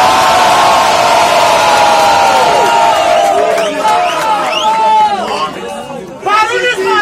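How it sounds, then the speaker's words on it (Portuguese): A rap battle crowd at a student battle final roars and cheers, whoops and shouts swelling over a loud sustained noise, with an emcee voice rising through the din and fresh bursts of yelling near the end. "barulho pra melhor plateia do Brasil e eu tô falando isso"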